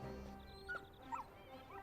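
Torgal, a hound in the video game Final Fantasy XVI, gives a few short, faint whimpers and a soft yip over a low ambient music bed, with no speech.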